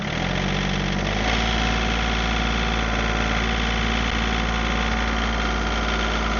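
A tractor engine idles at low revs, a steady deep rumble with a constant chugging throb and no voices.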